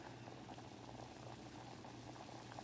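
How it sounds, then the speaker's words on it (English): Wild rice boils in a pot, a steady close bubbling and rolling churn of water that stays even throughout with no voices. "So it's boiling."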